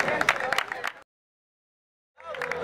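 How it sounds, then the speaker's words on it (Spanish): Crowd at a freestyle rap competition in Sáenz Peña claps and shouts for a rapper, a dense burst of applause and cheering that cuts out to silence for about a second, then resumes. "Fuerte aplauso para Ten"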